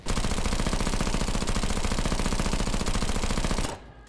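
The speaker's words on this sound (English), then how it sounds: "The only one that doesn't sound meaty is the SMGs, which sound really weak and flat" Rapid submachine-gun fire from the retro cyberpunk shooter SPRAWL, a thin, flat continuous burst lasting several seconds before cutting off abruptly, heard alone without voices.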